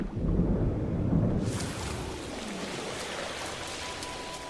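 Thunderstorm with heavy rain in the No Man's Sky game: a deep rumble of thunder rolls through the opening seconds, then steady hissing rainfall continues loud and close, with no talk over it.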